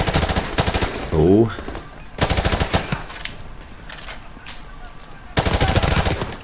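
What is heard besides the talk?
gunfire from the video game Call of Duty Modern Warfare Remastered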